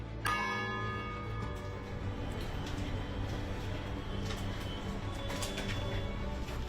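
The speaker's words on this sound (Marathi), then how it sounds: "दर पंधरा मिनिटांनी या घड्याळातून घंटानाद होतो" A bell in the clock tower of Mumbai's 1878 Rajabai Tower, 280 feet tall, strikes once near the start. It rings out with a long, shimmering decay over steady ambient hum and faint bird calls.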